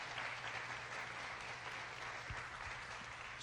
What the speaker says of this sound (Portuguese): se for para Jesus, você pode aplaudir.